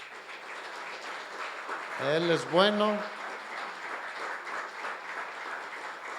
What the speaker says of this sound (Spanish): Démosle un aplauso al Señor.